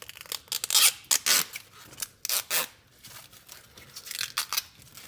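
Adhesive backing is peeled off an illuminated door sill for a 2014-2020 Lexus IS, a series of close, crackly ripping strips in short bursts with pauses between, no talking.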